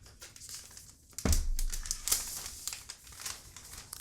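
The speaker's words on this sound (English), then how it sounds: "let's begin by taking the plastic off right here" Plastic protective film peeled off a new 2019 iPad Air, a close, loud crinkling tear that starts abruptly and continues in crackly bursts to the end.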